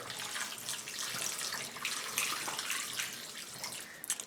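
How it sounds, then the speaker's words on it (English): Water pours steadily from a tap into a pot of pig's feet stock with vinegar and slurry, a continuous close splashing rush with no talking. "And we're going to add some water."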